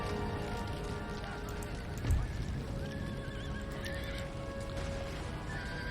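Cavalry horses in the Empire: Total War video game, with whinnies and hoofbeats amid steady battle noise; a brief thump stands out partway through and a faint voice sits in the background.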